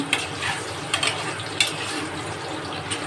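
Spices with turmeric are stirred in hot oil in a pan, giving a steady sizzle with a few sharp scraping strokes of the spatula at irregular intervals, close up with no talking.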